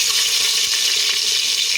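Stuffed eggplant fries in hot oil with mustard seeds, cumin and asafoetida inside a pressure cooker on a gas stove, giving a loud, steady close sizzle.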